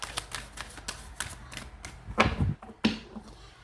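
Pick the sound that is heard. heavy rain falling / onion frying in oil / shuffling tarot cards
shuffling tarot cards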